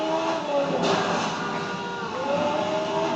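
A car engine in Need for Speed: Most Wanted revs and drones continuously at a high, steady pitch, shifting slightly as it accelerates, loud and without pause.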